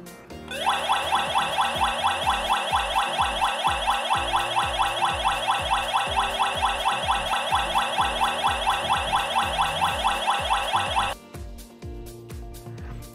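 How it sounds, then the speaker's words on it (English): A loud, rapidly pulsing electronic siren from a Zemgo Wi-Fi home alarm hub wails steadily for about ten seconds, then cuts off abruptly, leaving faint low rumbling behind. "Now you will see that the hub siren is sounding"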